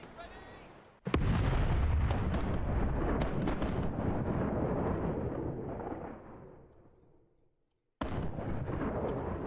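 Ship cannons firing in a pirate sailing video game, a loud booming volley with a long rolling rumble that fades out, then another blast begins abruptly.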